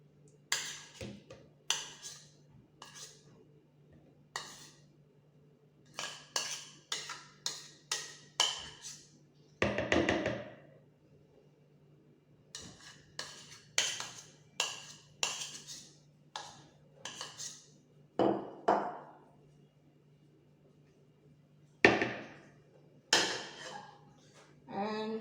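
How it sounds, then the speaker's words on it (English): Butter being mixed in a bowl for a butter cheesecake, heard as a series of scattered clinks and scrapes of utensil against the bowl, coming in irregular bursts with quiet gaps between them. "First, I will mix the butter."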